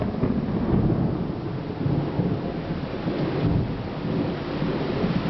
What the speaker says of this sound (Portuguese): Raio de trovões na Vila Regina